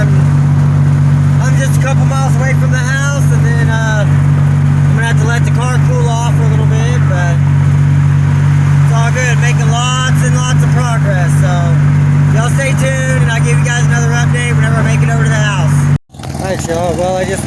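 A 2007 Pontiac Grand Prix on E85 fuel cruises with a steady, loud low engine drone and constant road hum, while someone talks throughout, cutting out abruptly near the end.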